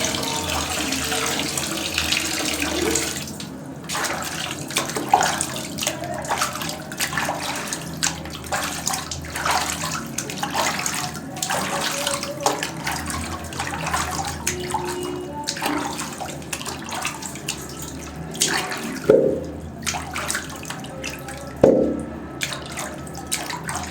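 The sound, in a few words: water running while washing chopped vegetables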